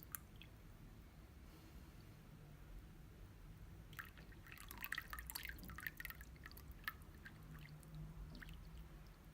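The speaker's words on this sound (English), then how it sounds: "now we'll fill the water up to the brim." Water filling a tank up to the brim during a water-level indicator build; quiet at first, then a trickling, dripping pour with small splashes starting about midway and continuing at a moderate, fairly faint level.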